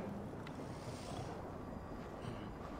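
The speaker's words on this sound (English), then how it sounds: "Windy." Steady wind gusts blowing across an open Norse landscape in Assassin's Creed Valhalla, a continuous broadband rush with faint waves beneath, moderately quiet with no talk.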